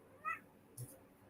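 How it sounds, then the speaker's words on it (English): A cat gives a short, faint meow, a single high wavering cry followed by a soft thump and hiss, with a quiet room background. "I heard that cat. He's trying to talk to me."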